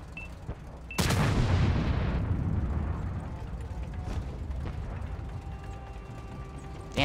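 A tank gun in a tank combat video game, heard as a sharp loud mechanical clank followed by a long rumbling, ratcheting reload decay that fades over several seconds, with no talk.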